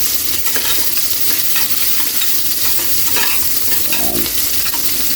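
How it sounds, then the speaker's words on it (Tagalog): Garlic and onion sizzling in a pot for a carabao meat soup, a loud, steady frying hiss with scraping stirs of a utensil, close up and without voices. "Ilagay na natin yung bawang, sibuyas."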